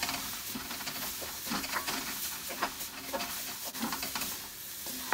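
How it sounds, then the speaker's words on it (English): Sauce is folded into cauliflower rice and vegetables in a hot pan, a steady sizzle with repeated scraping, stirring strokes close by, no one speaking. "I don't want this to stick to the pan, I want it to stick to the vegetables, so I'm kind of folding it in that way"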